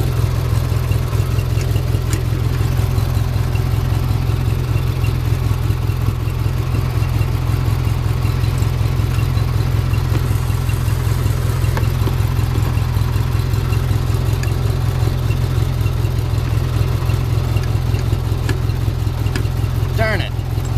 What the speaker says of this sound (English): I can hear it running.